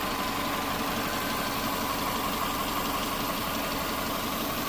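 A 2004 Subaru Impreza Outback Sport 2.5 engine idles after a timing belt replacement, giving a steady, even mechanical rumble with a light ticking texture, close and continuous throughout with no talk.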